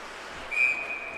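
A referee's whistle blows once at an ice hockey game, a short, shrill blast that is fairly loud over the steady hum of the arena crowd.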